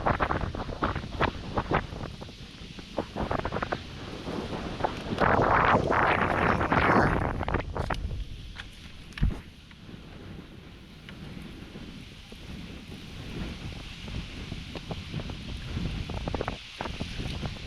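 A strong west wind of about 30 miles an hour blows over a lake during fishing, roaring and buffeting the microphone in loud gusts with a brief louder surge midway.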